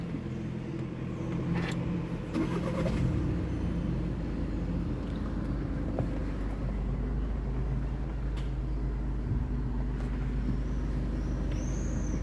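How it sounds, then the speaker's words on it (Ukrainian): A 2018 Skoda Octavia A7 engine cranks and catches after a short burst of noise, then settles into a steady low running hum that continues alone. "Двигун заводиться з пів оберту. Зараз його заведемо."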